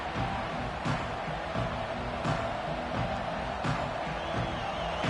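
Football stadium crowd makes a broad, continuous roar of noise at a steady level, with a few brief louder swells, heard without any talk over it.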